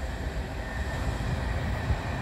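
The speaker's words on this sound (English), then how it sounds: "that's the end of our train." The tail end of a freight train rolls past, a faint, steady rumble and clatter of wagons with no voices over it.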